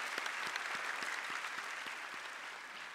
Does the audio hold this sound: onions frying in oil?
no